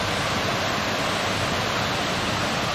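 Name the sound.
Jajá waterfall in Morretes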